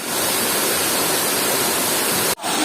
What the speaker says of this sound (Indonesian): salah satu destinasi wisata air terjun yang ada di pesisir barat